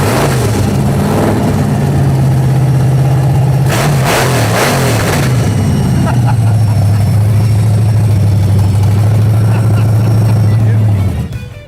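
A supercharged Impala engine fires up and revs hard, a loud, close, steady low roar with bursts of throttle in the middle, then settling to a strong rumble before cutting off at the end.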